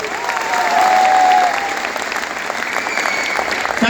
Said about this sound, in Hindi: इस माहौल को महका दो एक बार खुद के लिए, जोरदार वाली ताली बजा दो।